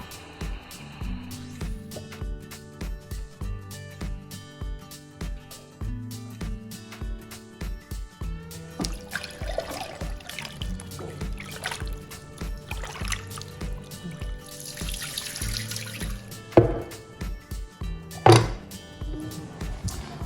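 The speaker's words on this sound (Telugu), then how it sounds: "ఇవి రెండు మూడు సార్లు నీట్గా వాష్ చేసేసుకుందాం" Raw country chicken and mutton nalli with fat are rinsed under a running kitchen tap, trickling water mixed with handling thuds, splashes and clunks of a vessel, close and uneven, with no talking.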